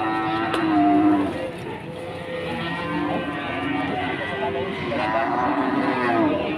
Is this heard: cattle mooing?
yes